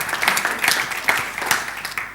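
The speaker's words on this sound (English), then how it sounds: "Let's give her a clap." A seated audience at an event applauds, a steady wash of many hands clapping that carries on for a couple of seconds with a few louder claps standing out.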